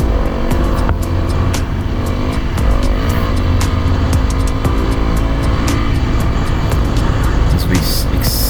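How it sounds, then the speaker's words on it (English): KTM 250 four-stroke dirt bike ridden through the Mojave desert, its engine a continuous loud drone with strong wind buffeting, the note rising and falling slightly across the run. "Here's Kieran, our friend from Australia, riding this sweet little KTM 250 4-stroke."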